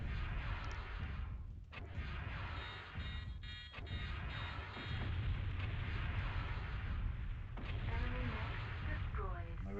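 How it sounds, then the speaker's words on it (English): Enemy mechs firing weapons in the MechWarrior 2 video game, heard as muffled booms and bursts over a constant low engine rumble, with a voice speaking over the action. "They shoot at me."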